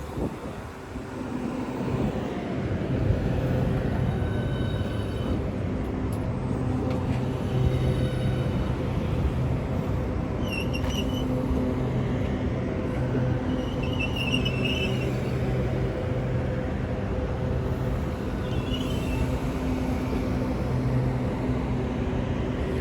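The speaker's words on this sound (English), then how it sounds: "As she squeaks her way to stop" A Class 395 high-speed train draws into a platform at Ashford International, a steady rumbling roll with faint high squeals from the brakes as it slows to a stop, heard alone without voices.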